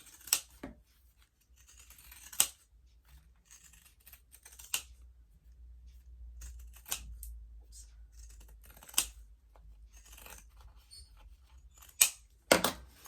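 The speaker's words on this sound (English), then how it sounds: "So I'm just going to take my pinking shears, go around the corner at about, leaving about 1/4 of an inch." Pinking shears cut fabric around a rounded corner, producing sparse, crisp clicking snips scattered over a quiet background with faint rustling in between.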